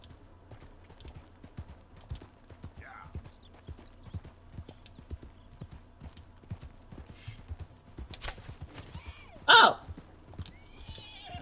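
Horse hooves clip-clopping steadily in Red Dead Redemption 2, a regular rhythmic trot close by, with a horse whinny and a few sharp sounds near the end.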